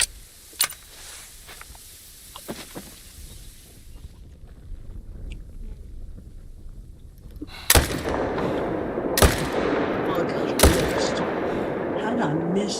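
Rifle shots from a whitetail hunt in theHunter: Call of the Wild, four sharp loud cracks, one early and three in quick succession near the end, over wind and outdoor ambience, with talking between them.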